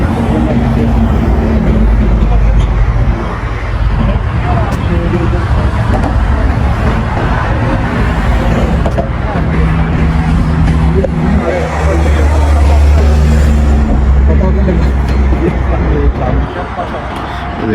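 Dubai road traffic after rain: a steady, loud rumble of car and bus engines with passing vehicles and a continuous wash of tyre noise, with voices murmuring in the background throughout.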